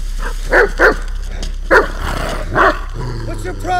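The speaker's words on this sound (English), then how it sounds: "Mike, can you move your damn dog?" A dog barks in short, loud bursts, four or five sharp woofs spread over a few seconds, against a constant low rumble and some background voices in a tense outdoor cliffside scene.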